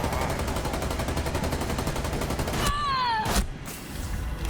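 Gunfire in the video game Rainbow Six Extraction, a dense steady rattle of shots under game effects, followed by a descending tonal whine and a sharp impact near the end, loud and close.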